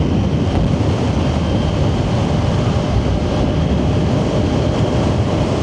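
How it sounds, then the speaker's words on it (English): Heavy wind buffets a rider on a moving motorcycle, a loud, constant roar of rushing air with no pauses and no voices. "This wind is getting nuts."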